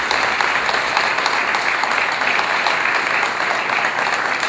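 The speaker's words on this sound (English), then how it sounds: "Give her a round of applause." Audience applause fills the room at a dinner dance, steady and dense clapping from a seated crowd that holds evenly throughout, with no voices over it.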